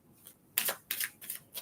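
Tarot cards are shuffled by hand in four quick, crisp bursts, close and fairly quiet, with no talk over them.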